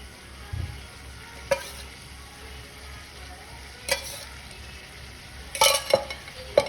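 Chicken frying in oil over a low flame, a soft, steady sizzle punctuated by a few sharp clinks and scrapes as a spoon stirs it against the pan.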